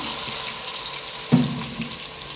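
Cumin seeds and onion going into hot oil produce a hissing sizzle, with a sudden louder burst as the onion drops in, then a steady frying crackle.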